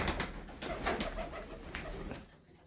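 Pigeons in a wild loft where young birds are raised give soft, low coos and rustles, close by, in a short, continuous burst.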